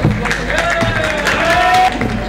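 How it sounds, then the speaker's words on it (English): An audience at a school alumni reunion claps for a newly introduced financial consultant. The clapping is a loose scatter of claps under a voice and a tonal hum, with a faint crowd murmur. "Can we have a round of applause for Ishwar?"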